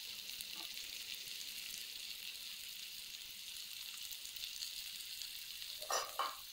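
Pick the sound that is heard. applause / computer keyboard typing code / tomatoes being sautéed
tomatoes being sautéed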